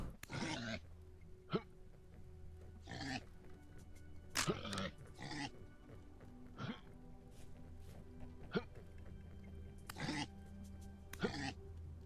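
Pigs in the video game Vintage Story let out short, separate grunts and snorts at irregular intervals over a quiet low hum, with no talk.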